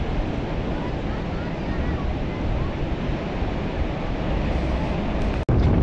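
On a beach in Karachi, sea surf rolls in a constant, loud wash mixed with gusting wind buffeting the microphone, steady throughout.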